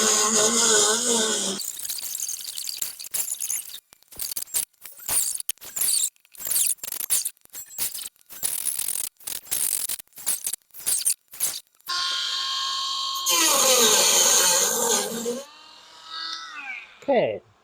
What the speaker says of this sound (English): So I'm going to try a Dremel